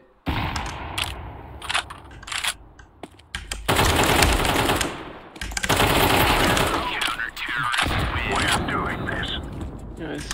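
AK rifle fire in Counter-Strike 2 Wingman on the Vertigo map: short bursts, then long sustained volleys of rapid automatic shots, loud and close, with players talking in between.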